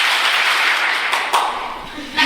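An audience of students at a mind-management workshop claps together in one burst of crowd noise that quickly fades, followed by a few sharp taps and a voice beginning to speak.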